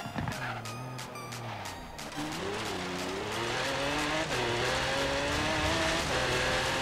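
A car engine revs hard and climbs steadily under full throttle in the video game Forza Horizon 3, a constant loud drone with a faint tire squeal.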